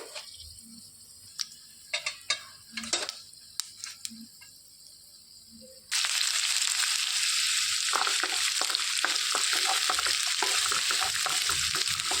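Sliced onions and chana dal frying in oil in a pan for a flat bean (goruchikkudu) fry: quiet scattered stirring clicks at first, then a loud, steady sizzle that continues to the end, with spoon scrapes over it.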